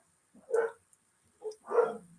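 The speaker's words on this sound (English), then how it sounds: "I think maybe the mailman's here. Everybody is barking." Dogs barking indoors, a few close, muffled barks in quick succession: one at first, then a pair about a second later.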